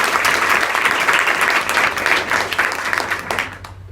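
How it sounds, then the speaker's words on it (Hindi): A crowd at a school adolescent education program claps loudly and steadily in a sustained round of applause that gradually thins and fades out at the end. "अपने प्रबंधक साहब के लिए ताली बजा दें।"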